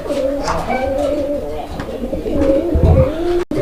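Racing pigeons in a loft coo steadily and close by, layered low murmuring calls running throughout, with someone talking over them.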